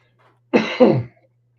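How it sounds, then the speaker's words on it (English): A single adult's cough, two quick close harsh bursts back to back, loud against a quiet background with a faint low hum. "Excuse me for coughing on you guys."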